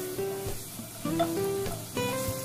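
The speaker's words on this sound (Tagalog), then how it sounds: "isunod na natin yung ating pork liver. Ayan, igisa-gisa muna natin siya." Pork liver sautés with garlic and onion in a pan, a close steady sizzle with bursts of crackling and scraping stirs at intervals, no voices.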